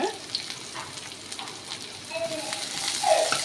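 Shallots and dried chillies fry in hot oil in a pot, giving a steady bubbling sizzle with scattered crackles and pops that grows slightly louder toward the end.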